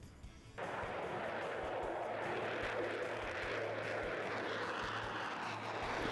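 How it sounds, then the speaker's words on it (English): F-16 fighter jets of the Vermont Air National Guard pass over a house, a sudden broad roar swelling in and holding as a loud, steady rumble of jet engines. "I see the F-16s going over the house all the time"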